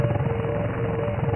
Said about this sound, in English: it's the... helicopter. This grants our car the power to fly